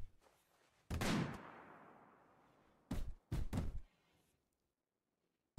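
Gunshots in the RimWorld video game: one heavy booming shot with a fading tail, followed after a pause by three quick dull bangs in close succession, fairly faint and with no talking.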